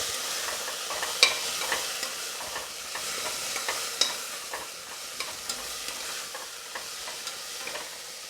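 Chili powder and turmeric are sautéed in a pan for mixed dal khichdi, with soft steady sizzling and regular scraping stirs from a spoon, close and unaccompanied by speech.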